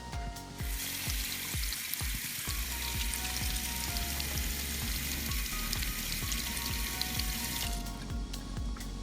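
Water runs from a tap over skin to wash off a homemade pen tattoo coated in liquid bandage, a steady hissing splash that keeps going and then stops near the end.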